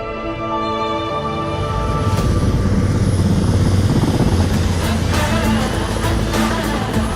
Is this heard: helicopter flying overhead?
yes